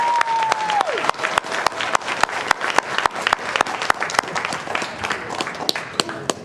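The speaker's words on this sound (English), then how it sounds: "if we can have one round of applause for the Ellet Cluster supporters." An audience at a school board meeting gives a round of applause for student supporters, with sparse, distinct claps rising into a loose, fairly close patter while a brief tone fades at the start.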